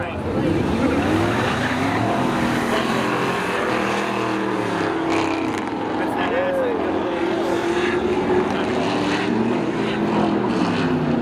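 Toyota, Chevy and Subaru race cars in drag racing at Seekonk Speedway on Independence Day, engines roaring continuously with rising and falling pitch as they pass, loud and close, with an announcer talking over them.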